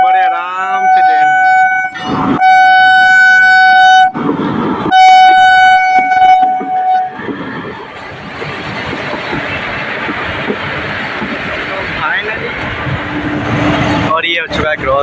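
A train horn blares in repeated long blasts, then a train rumbles steadily through an unusual level crossing, wheels clattering close and loud, with a final horn burst near the end and people talking over it.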